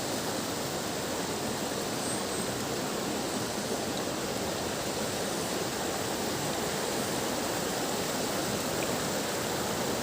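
A river flowing steadily, a broad continuous rush of water that stays even and fairly close for the whole stretch, with no voices over it.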